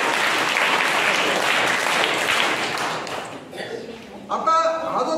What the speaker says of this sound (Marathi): जरा मॅडम साठी टाळ्या वाजवा